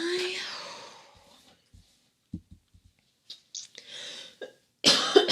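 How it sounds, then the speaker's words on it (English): A person recovering from COVID gives a few short, sharp coughs separated by quiet gaps, close to the microphone, with brief vocal sounds at the start and end. "if I am coughing or if I sound congested, that is why."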